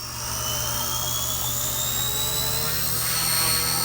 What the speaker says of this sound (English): this is a professional helicopter with collective pitch